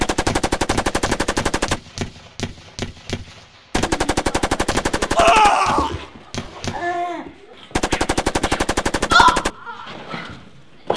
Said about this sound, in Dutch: Bij drie schieten.